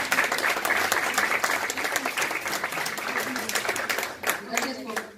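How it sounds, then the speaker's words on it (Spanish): Steady, dense applause from an audience at an academic talk on electrochemical wastewater treatment, many hands clapping evenly for about four seconds before tapering off, with a voice heard over it. "por favor, un fuerte aplauso para la doctora"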